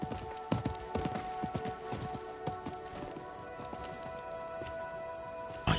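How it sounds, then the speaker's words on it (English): Horse hooves clip-clop steadily in the video game Diablo IV, a close, rhythmic trotting beat over a soft background of music and faint rain-like ambience. "I think that was the merchant's horse."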